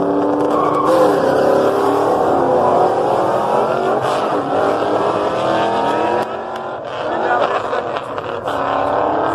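Drag racing cars accelerate down the strip at Pageland Dragstrip, a loud sustained engine roar with rising revs and a brief dip midway, with people talking over it.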